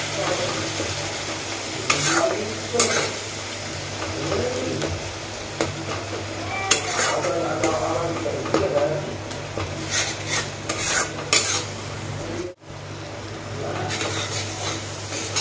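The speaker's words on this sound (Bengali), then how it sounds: "যেন ভালো করে ভাজা হয় মশলাটা।" Spice masala sizzles and fries in a pan with a splash of water, a steady close hiss under repeated scraping and stirring strokes of a spoon, with a brief dropout near the end.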